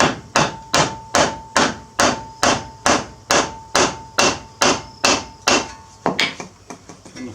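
A hammer striking a metal part on a car during a wheel hub swap, about fifteen loud, evenly spaced ringing blows close by, then a couple of final knocks, no talking.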